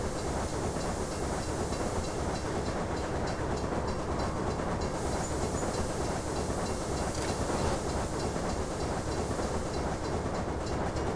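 A passenger train runs in the Railway Empire game, a steady, continuous rolling rumble with hissing and faint rail clatter. It is loud and even throughout, with no voices.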